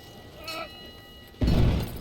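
A cannon shot explosion in the Battlefield 1 video game: one sudden, loud, low boom that bursts in near the end and rumbles on, after a stretch of quieter game noise.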